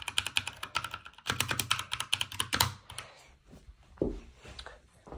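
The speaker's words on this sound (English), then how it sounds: "and this is a keyboard." Rapid typing on a computer keyboard at a gaming setup, with close, crisp keystrokes clattering in quick bursts before slowing and trailing off.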